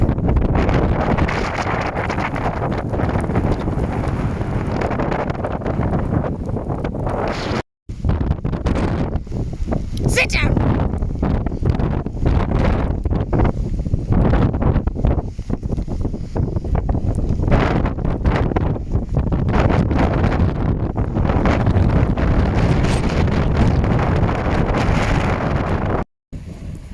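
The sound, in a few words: strong wind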